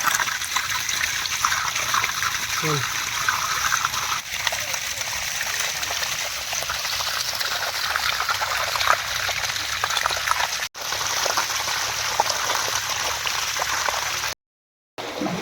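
Steady rushing water pours continuously at close range from a borewell motor pipe, a broad hissing gush with a brief break near the end.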